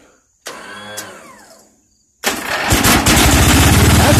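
A 1988 Ranch King L158B lawn tractor engine cranks briefly, then catches and runs loud and steady with the choke partly on, a dense close rumbling roar after a short quiet gap.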